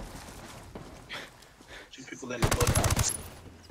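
A rapid, loud burst of automatic gunfire from Ghost War rattles off near the end, following quieter scattered shots and soft movement sounds, with voices talking in the background.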